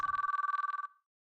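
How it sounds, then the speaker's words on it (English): A single electronic telephone bell rings in a rapid, steady trill for under a second, then cuts off into silence, in the video game Chaos;Child. "But the only thing I heard was the endless ringing sound."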